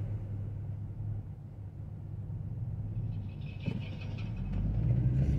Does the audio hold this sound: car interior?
yes